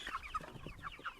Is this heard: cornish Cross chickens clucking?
yes